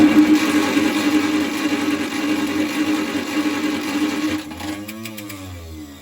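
An old 1948 Studebaker Champion car engine runs with a rough, buzzing rattle for several seconds, then sputters and dies away near the end.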